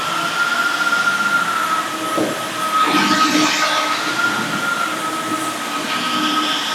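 Roborock F25 wet and dry vacuum cleaning a floor, working into the corners, a steady close motor hum with brief scrubbing swells, running alone throughout.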